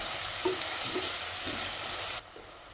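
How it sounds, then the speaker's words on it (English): Finely chopped onions and green chilies stir-fry in a pan with a loud, continuous sizzle and a few brief spoon scrapes, and the sizzle drops away abruptly near the end. "Add in 2 medium-sized onions finely chopped. Stir fry these until the color begins to change."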